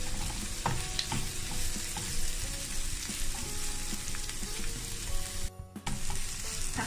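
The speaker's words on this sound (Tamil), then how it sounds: "ஒரு தக்காளியை இதில் ஆட் பண்ணி வச்சு கொஞ்சம் நல்லா வதக்கிக்கோங்க." Steady sizzling of tomatoes sautéing in a pan, with occasional stirring scrapes and clatters, loud and close throughout with a brief dip near the end.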